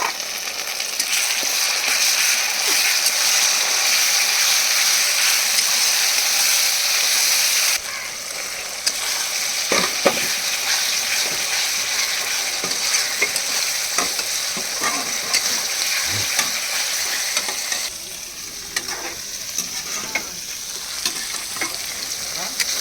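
Ginger, garlic and cumin sizzle loudly in a pan of hot oil. A strong, steady hiss runs throughout, broken by scraping stirs and occasional clinks of a spoon against the pan. The frying eases slightly after the first few seconds.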